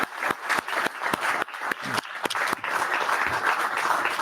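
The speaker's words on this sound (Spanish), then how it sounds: "Yo pido un aplauso" An audience at a book presentation bursts into applause, a dense run of hand claps, loud and close, sustained for several seconds.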